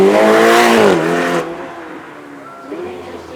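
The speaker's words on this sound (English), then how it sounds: "let's have a listen to a proper Italian V8" Ferrari V8 at a supercar weekend at Beaulieu, giving one loud close rev that rises and then fades quickly to a low idle, with a faint second blip at the end.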